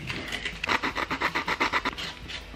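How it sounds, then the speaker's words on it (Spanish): A cardboard piece is sanded by hand, a rhythmic series of about ten quick, gritty back-and-forth rasping strokes, close and fairly steady. "Pero antes hay que darle una pequeña lijada para afinar los detalles del círculo por su interior sobre todo"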